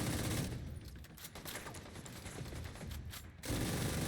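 Rapid automatic gunfire aimed at a turret enemy in The Division 2, a dense, continuous rattle of shots that fades slightly midway and then surges louder again.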